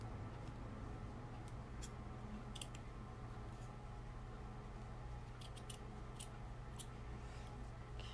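Scissors cut a fabric circle for a kids' donut pillow, making faint, scattered crisp snips over a low steady background hum.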